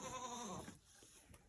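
A goat in a farm pen gives one clear, drawn-out bleat close by, then falls quiet to faint background noise.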